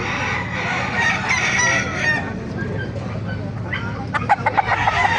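A hennie gamecock rooster crows at the Baliuag open market, its call rising over steady crowd bustle and nearby chatter, followed by a few short clucking notes near the end.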